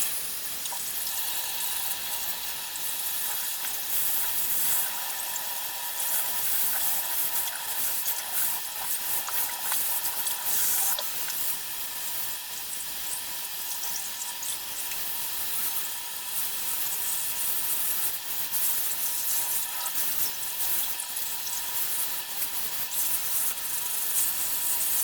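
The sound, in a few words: water running from a tap set to 44 degrees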